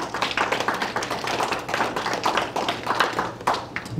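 An audience applauds to welcome a guest speaker at a mental health talk. The clapping is dense and steady, a continuous patter of many hands that lasts throughout, with no voices over it.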